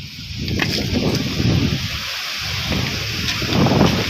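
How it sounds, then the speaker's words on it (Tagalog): Gusty wind buffeting a nearby microphone, rumbling and roaring in uneven surges throughout, outdoors while coconuts are being husked. "Ay, ang hangin."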